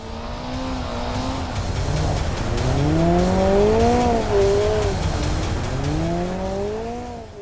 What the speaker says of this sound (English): a sports exhaust option is available to enhance the sound of the engine